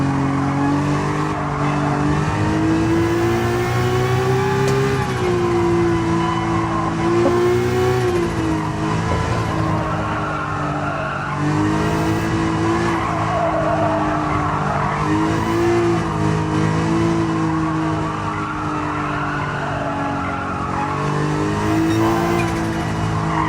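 A race car in Gran Turismo 7 drives hard, its engine droning and revving with shifting pitch while the tires squeal and skid through corners, loud and continuous throughout.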